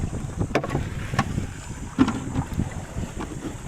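Strong wind buffets the microphone on a small boat while fishing at sea, coming in rough, uneven gusts with the odd knock, and no talking.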